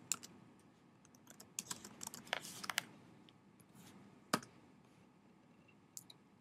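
Sparse, faint clicks of typing on a computer keyboard into a search bar, with scattered keystrokes and soft taps in a quiet room.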